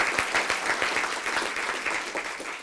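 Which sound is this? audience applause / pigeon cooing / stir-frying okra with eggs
audience applause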